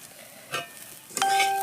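Drum-stalk pieces tipped into a pan of crisp-fried onions and lentil dumplings give a steady low sizzle, with a stirring clatter near the start and a louder scrape and hiss toward the end.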